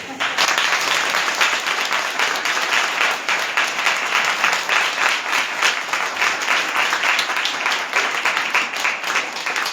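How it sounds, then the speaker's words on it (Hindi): A church congregation applauds in a steady, dense burst of clapping that carries on for the whole stretch, loud and close. "ताली लेकर आए आप लोग? थाली नहीं, ताली।"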